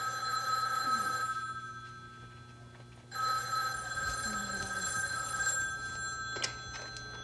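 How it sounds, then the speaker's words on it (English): A telephone bell rings indoors in two long, loud bursts separated by a brief pause, with steady room hum underneath and no talking. "And just as I'm rushing around, the damn phone rings."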